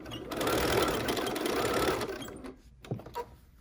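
A sewing machine stitching a pumpkin trivet runs in a fast steady whir for about two seconds, then stops, followed by a few small mechanical clicks and handling noises.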